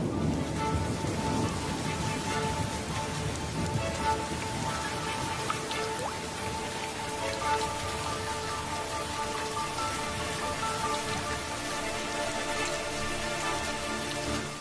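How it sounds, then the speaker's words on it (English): Steady, dense monsoon rainfall pours down continuously over the Sri Lankan highlands, a thick wash of drops hitting surfaces without pause. "when the monsoon clouds finally burst, the highlands are inundated."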